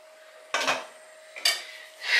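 Two metallic clanks of a small pot being set down and handled in a kitchen, followed by a brief scrape, in an otherwise quiet room.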